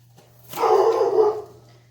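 A single dog bark, fairly close and clear, standing alone over a faint steady hum.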